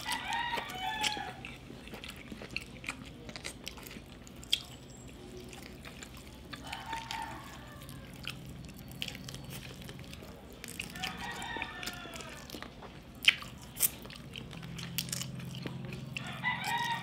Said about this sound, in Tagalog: Yung tikilaok ng manok, narinig na.